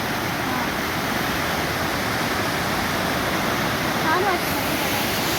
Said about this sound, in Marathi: पाण्याला फोर्स आहे ना खूप जास्त आहे